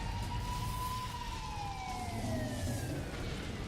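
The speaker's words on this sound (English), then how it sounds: "Will someone stop the sirens?" A wailing emergency siren sweeps slowly downward in pitch, sustained and fairly distant, over a low rumbling background in the Zodiac Axis visual novel game.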